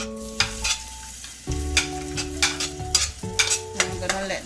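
Shredded ginger and minced garlic sauté in coconut oil, with repeated scraping stir strokes over a steady sizzle and sustained musical tones underneath.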